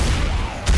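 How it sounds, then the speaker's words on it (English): Brief burst of gunfire in the zombie shooter Left 4 Dead 2, a dull rumbling volley followed by one sharper blast near the end, all within under a second. "I'm gonna keep shooting."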